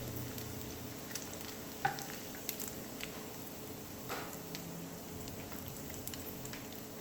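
Bacon fries in a pan with a constant, moderately loud sizzle and occasional small pops and spatters, and no one speaks.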